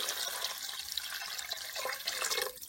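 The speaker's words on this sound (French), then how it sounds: "Donc là, je vais mouiller avec 1 litre d'eau." Water pours steadily into a Cookeo multicooker pot, about one litre going in for Moroccan-style lentils, a continuous close splashing rush that eases slightly near the end.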